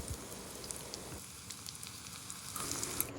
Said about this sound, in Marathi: आळूच्या पानांची भजी आपण तेलामध्ये व्यवस्थित क्रिस्पी होऊपर्यंत तळून घेणार आहोत